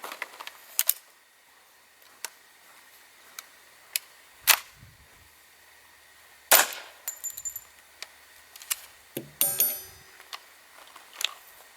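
A handgun fires a squib load of 0.1 grain of Trail Boss powder that still cycles the action, heard among a scatter of sharp clicks, clacks and metallic snaps spread over several seconds, with no talk.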